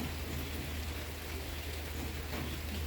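Steady, heavy afternoon rain falls continuously on trees, a dense even hiss with no voices or other distinct sounds.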